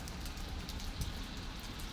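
Steady rain falling outdoors near a residential area, a dense even patter of drops on surfaces with no voices, continuous and fairly close throughout.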